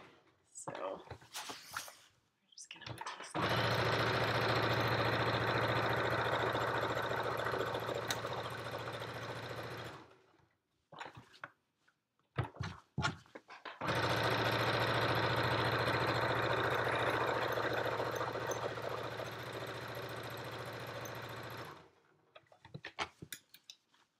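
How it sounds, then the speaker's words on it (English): A small travel sewing machine runs in two sustained bursts of steady mechanical whirring, each lasting several seconds, with brief pauses and soft handling noises between them. "I'm using my travel sewing machine"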